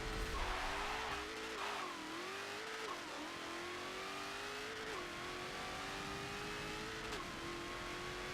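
A 2018 Dodge Demon F&F Edition in Forza Motorsport 7 revs hard through a drag race. The loud engine climbs in pitch, drops at each gear shift and climbs again, with a steady roar and some tire noise.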